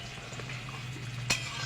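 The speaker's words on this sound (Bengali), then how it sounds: "ডালটা আমি একটু নাড়িয়ে দেব" Chickpea lentil dal is stirred in a pot over a low, steady simmering hiss, with one sharp clink of the spoon against the pot near the end and no talking.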